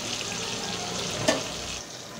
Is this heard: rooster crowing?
no